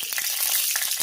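Panch phoron and two chillies sizzle in hot oil, a brief, close, bright crackling hiss with small pops throughout.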